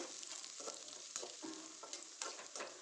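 Onions frying in oil in a pan for okra curry, a steady close sizzle broken by repeated scrapes and taps of a spoon stirring, in irregular strokes every half second or so, with no talking.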